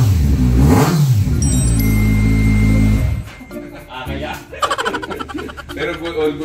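A 2015 Kawasaki Ninja 1000 motorcycle engine revs loudly up close in a strong burst, then drops to a rougher idle, with people talking and laughing over it.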